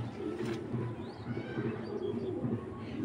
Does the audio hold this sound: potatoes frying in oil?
no